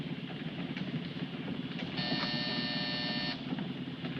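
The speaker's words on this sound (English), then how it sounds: "Hit that buzzer." A buzzer signalling a vehicle to stop sounds once inside a moving vehicle in a 1952 crime film, a single steady electric buzz lasting about a second and a half over a low rumbling engine, with no talk.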